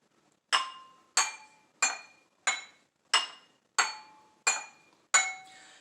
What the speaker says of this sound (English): Did you hear different sounds from each glass?